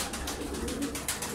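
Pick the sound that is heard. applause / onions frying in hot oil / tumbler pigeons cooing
tumbler pigeons cooing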